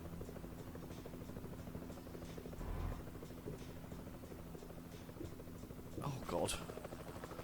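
Helicopter in the Euro Truck Simulator 2 driving game, a steady low rotor drone and buzz running throughout with engine hum, while a person speaks briefly near the end.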